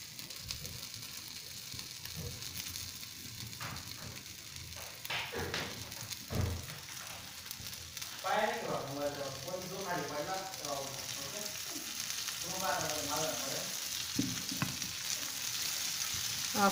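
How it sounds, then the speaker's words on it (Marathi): Coated fish pieces fry in a pan for a Mumbai-style fish fry, with a steady crackling sizzle that grows denser and louder over time under intermittent talking. "इथे आपल्या सर्व फिश कोट करून झाल्या आहेत आणि त्या पॅनवर आपण टाकलेल्या आहेत."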